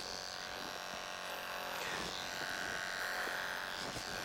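Electric hair clippers buzz steadily during a haircut, a constant motor whine held close and fairly quiet, with small shifts in pitch as the blades move through hair.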